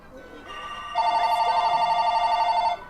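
A telephone rings insistently in Ni No Kuni: Wrath of the White Witch, a loud, rapidly trilling electronic bell that runs for nearly two seconds and then cuts off, with faint background sound before it.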